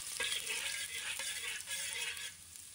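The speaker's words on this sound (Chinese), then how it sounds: "倒入食用油，加入蒜末，先把它炒一下" Minced garlic sizzles softly in cooking oil in a wok, with a faint, even crackle and light stirring over under three seconds.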